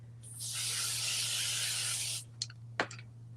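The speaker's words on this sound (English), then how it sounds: "Okay, my well-loved spray basting." A long steady hiss of a can of spray basting adhesive spraying for about two seconds, followed by a couple of quick clicks and taps.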